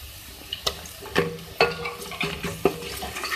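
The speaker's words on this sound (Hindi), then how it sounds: "इसको फ्राई कर लें। ये ज़्यादा इसको फ्राई नहीं करना" Whole spices and ginger-garlic paste sizzle steadily in mustard oil in a pan while a spoon stirs, clinking against the metal every so often.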